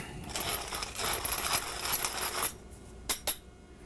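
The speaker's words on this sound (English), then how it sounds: "And then also grind in some black pepper." Black pepper ground from a pepper mill over an anchovy and oil bruschetta sauce: a steady gritty crunching rasp for about two and a half seconds, then a pause and two brief sharp grinds, close and clear with no talking.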